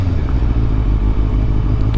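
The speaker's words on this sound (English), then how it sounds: "who's driving my motorcycle?" A motorcycle engine rumbles steadily and loudly close by, a dense low-pitched throb with some clatter, continuous and unbroken, no talking.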